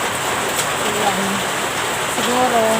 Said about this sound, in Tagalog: yung ingay ng ulan sa bubungan namin yun.